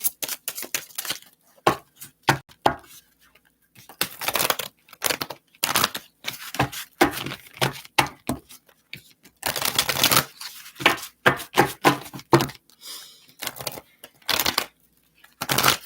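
A thick deck of tarot cards is shuffled in bursts of crisp riffling and slapping, close and fairly loud, with short pauses between runs and no talk over it.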